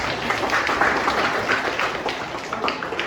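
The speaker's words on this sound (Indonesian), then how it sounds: "Tepuk tangan dulu semua" Brief, steady clapping from an audience of students in a classroom session, a continuous dense patter from start to finish.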